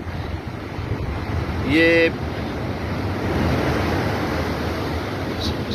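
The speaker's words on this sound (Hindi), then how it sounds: "कितनी फुट ऊंची लहरें जो हैं वो आ रही हैं" Sea waves surging onto the Karachi shore as 8 to 10 foot high waves come in, a loud continuous roar of surf and wind noise, with a brief voice and a short tonal sound partway through.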